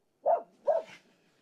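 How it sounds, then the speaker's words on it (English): A dog gives two close, sharp barks about half a second apart near a tractor being rigged with a new Uniforest 45M logging winch, the second bark trailing into a brief yelp. "you stop the barking."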